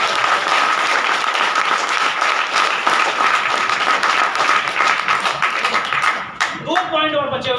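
Loud, sustained applause from a large audience at a motivational success seminar, dense steady clapping that fills the space for several seconds before breaking off abruptly near the end.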